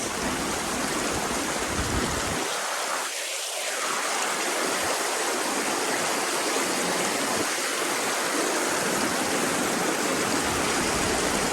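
A mountain river near Mt Mariglem rushes and gurgles steadily close by. The continuous flow masks everything else, with only a brief dip in the lowest rumble near the start.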